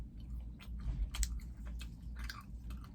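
Someone chews a chocolate-filled Japanese snack up close, with soft, irregular crunchy bites and mouth sounds over a few seconds.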